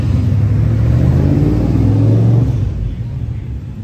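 A Cobra car engine drives past a parked spotting meet, a low rumbling drone that holds steady and fairly loud, then fades away over the last second.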